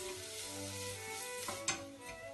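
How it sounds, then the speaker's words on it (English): Onions sautéing in a pot as the base for okra soup give a steady, soft sizzle with a couple of brief clinks or stirring knocks near the end; no talking. "So give that a bit of a stir until it's a bit soft."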